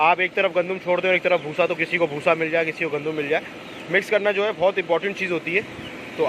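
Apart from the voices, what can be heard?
No everyday noises stand out.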